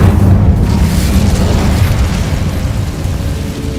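A fire spell cast in the Hogwarts Legacy video game, heard as a loud, broadband whooshing burst that starts strong and slowly fades over a few seconds.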